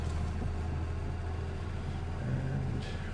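A tractor driving in the Farming Simulator 19 video game, a steady low engine drone and rumble that holds constant and loud throughout with no talk.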